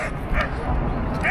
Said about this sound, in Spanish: Oh, los perros.